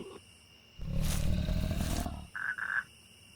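A lion on the savanna gives a loud, broad roar lasting about a second, followed by two shorter, tonal grunting calls close by, with no talk.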